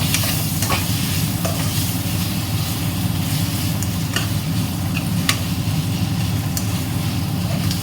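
Tomatoes sautéing in a pan for a Tamil-style cluster bean (kothavarangai) rice, a steady dense sizzle running throughout with scattered stirring scrapes and small pops, fairly loud and close, no talking.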